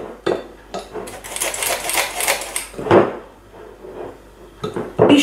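Sponge cake batter being folded with wheat flour in a bowl, giving soft scraping and clinking of a utensil against the bowl in irregular strokes, with a few sharper knocks, close and fairly loud, no voices.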